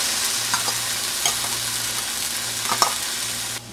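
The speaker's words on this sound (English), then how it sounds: "So now the onions are golden brown, we want to add in our crushed tomatoes. So in go the crushed tomatoes." Crushed tomatoes going into golden-brown frying onions, giving a steady loud sizzle with faint stirring clicks that cuts off abruptly near the end, with no talking.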